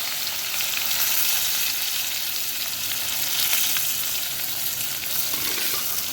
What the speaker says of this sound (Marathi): आता हा कांदा आणि हिरवी मिरची पण फोडणीला घालूया